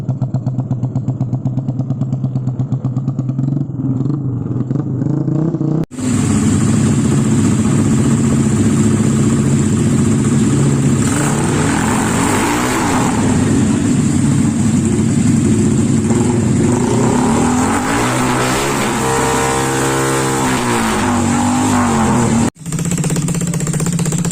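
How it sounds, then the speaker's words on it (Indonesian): Motorcycles fitted with loud aftermarket racing exhausts during a police stop on a bypass road, revving and idling up close, with a harsh, loud engine roar and rising throttle blips that run almost continuously. "beberapa puluh kendaraan trondol atau menggunakan knalpot racing"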